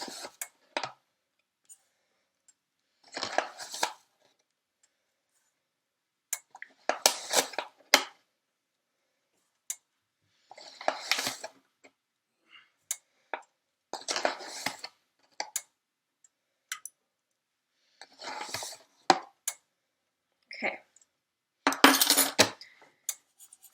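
A small saucepan holding sugar over medium-high heat is shaken in short bursts, each a quick metallic rattle and clatter, separated by silent gaps of a few seconds.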